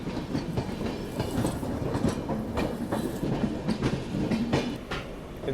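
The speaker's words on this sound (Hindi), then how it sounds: "इंदौर इंटरसिटी यहाँ पे देखिए एक्सेलरेट करते हुए।" The Indore Intercity train accelerates alongside, heard as a steady rumble of rolling wheels with rhythmic clickety-clack over rail joints, close and continuous throughout.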